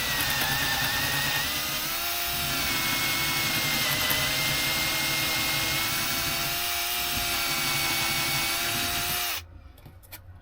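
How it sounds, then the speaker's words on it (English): Steady, loud whining drone of a hand drill boring holes, running continuously for about nine seconds, then cutting off abruptly near the end. "I'm just drilling the holes for the nuts."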